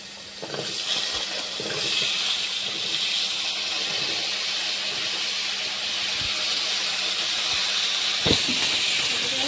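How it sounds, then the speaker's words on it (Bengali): Whole cumin seeds sizzle in hot oil as a tempering for a thin rohu fish curry with drumsticks and potatoes, a steady bright hiss running throughout, with a few soft clinks and one sharper knock near the end. "গোটা জিরে দিয়ে দিলাম। এখন এটাকে আমি এই যে ভাজবো।"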